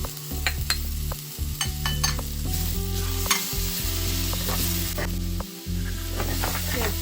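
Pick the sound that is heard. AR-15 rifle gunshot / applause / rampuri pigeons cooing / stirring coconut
stirring coconut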